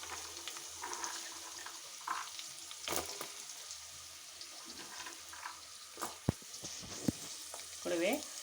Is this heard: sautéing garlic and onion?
yes